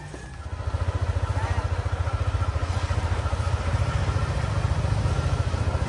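Motorcycle engine starting and idling close by with a steady rapid putter that rises slightly partway through, filling the whole stretch.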